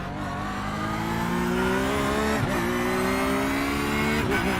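Race cars at the Road Atlanta IMSA race roar past one after another, engines revving and shifting with rising pitch sweeps, loud and continuous with no voices.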